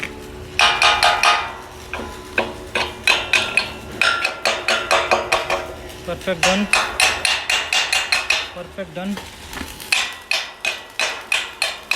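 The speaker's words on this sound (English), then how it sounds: "After doing welding, they have to hammer it to check out the" Repeated metallic hammer strikes ring out on welded steel joints during structural fabrication, in quick bursts, loud and close, with a voice speaking briefly between blows.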